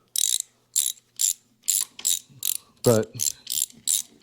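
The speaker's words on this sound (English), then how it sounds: "Thornton always made a pretty good socket and ratchet as far as I was concerned." A Thornton ratchet and socket clicks in about ten evenly spaced, crisp bursts, close and loud in a quiet shop, with a short spoken word cutting in once near the middle.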